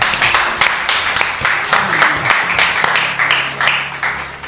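A church congregation claps and cheers, with irregular loud hand claps bursting over a bed of crowd noise and voices, close and lively throughout.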